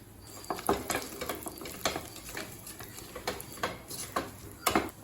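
Almonds roast in a pan for rava laddu, stirred with a utensil that gives quiet, irregular clicks and scrapes over a soft, faint sizzle.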